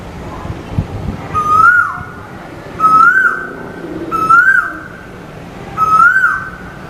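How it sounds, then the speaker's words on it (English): A bird call repeated four times at steady intervals, each a rising whistled note with a short falling tail, clear and fairly close over a faint low background. "a bird chirping, isn't it?"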